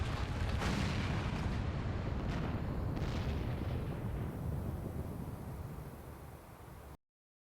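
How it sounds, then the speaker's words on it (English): Cannon fire booms and a tower collapses in the Final Fantasy XIV video game, a dense, roaring rumble with a few heavier impacts early on that slowly fades before cutting off abruptly. "It must have been the cannon from Castrum Abania."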